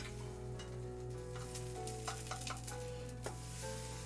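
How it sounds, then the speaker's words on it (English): Thick meat searing in a hot pan while brunch is cooked, giving a steady close sizzle throughout with a few brief louder crackles and pops and no talk. "We're gonna sear once more on this side."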